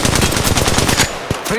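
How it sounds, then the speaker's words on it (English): Rapid bursts of automatic gunfire aimed at the player in the mobile battle royale Apex Legends Mobile, loud and close, with a steady stream of shots. "They're shooting at me."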